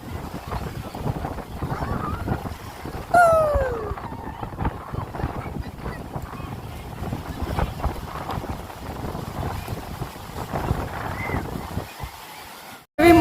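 Rough sea and strong wind on the coast come through as gusty, uneven buffeting and rumbling surf, with a brief whistling tone early on and a sudden quiet gap near the end.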